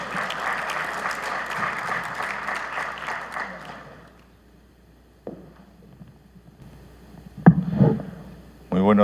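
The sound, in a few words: audience applause welcoming a speaker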